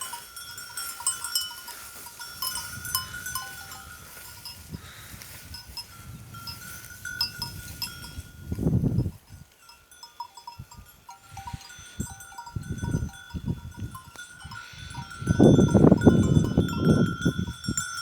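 A flock of sheep out grazing with a young puppy among them. Bells tinkle and jangle throughout, and bleats rise loudly at two points, near and overlapping.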